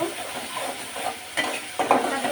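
Spices sautéing in oil in a pan, a continuous low sizzle broken by scraping stirs, with louder bursts of frying toward the end.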